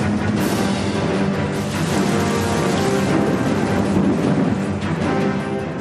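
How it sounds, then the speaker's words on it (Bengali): A thunderstorm with steady heavy rain pours down over Kolkata, a dense continuous wash of downpour with low rumbling thunder rolling underneath throughout, loud and close. "শুরু হয়ে যায় ঝড় বৃষ্টি"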